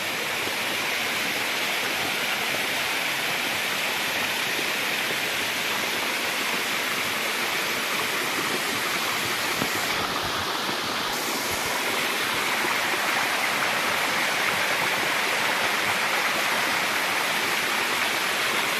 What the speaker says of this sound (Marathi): खळखळ वाहणारे झाडे, पाणीच पाणी इकडे तिकडे.